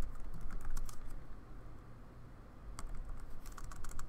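Typing on a computer keyboard, with bursts of quick key clicks at the start and again toward the end and a quieter stretch in between, close but soft, with no talking.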